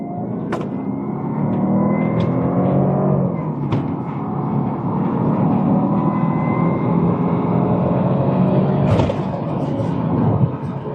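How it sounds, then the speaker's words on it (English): Jaguar XJR accelerating in sport mode, heard from inside the car: a faint, thin whine rides over a steady, loud rumble of engine and road noise. "Hopefully you can hear the little whine."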